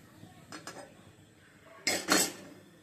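A metal wok set down on a kitchen stove, a couple of light clinks and then a louder double metallic clank near the end, close and otherwise quiet.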